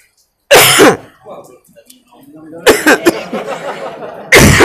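A sharp throat-clearing cough, followed by quieter rustling, then two more forceful coughs close to the microphone, the last cut off.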